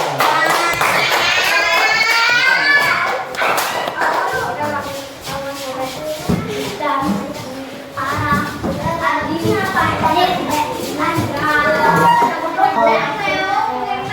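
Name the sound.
classroom children clapping for group 1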